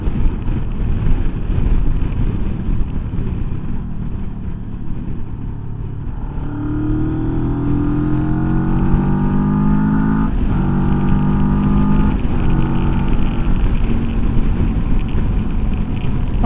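A Rieju Xplora 707 motorcycle accelerates hard, the engine pitch climbing through the gears with a brief dip at each shift, loud and close beneath heavy wind rush, heard from the rider's position.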